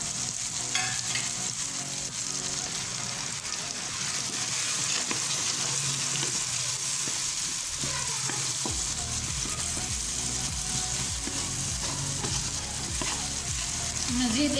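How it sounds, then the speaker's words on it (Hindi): Spiced masala with tomato and green chili frying in a pan for a chicken and potato curry, a loud continuous sizzle and crackle with stirring scrapes throughout, close and without talk. "मज़ीद 1 मिनट तक हम मसाले की भुनाई करेंगे।"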